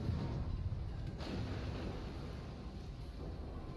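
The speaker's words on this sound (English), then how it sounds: "My guns can do pretty good damage on the Minotaur." Naval guns fire during World of Warships gameplay, with one sharp boom rising out of a heavy continuous low rumble of engine and ocean ambience, no talking.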